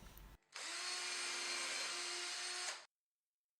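Power drill boring into a wooden chair leg, a steady high whine that starts abruptly, runs for about two seconds at constant pitch, then cuts off into silence.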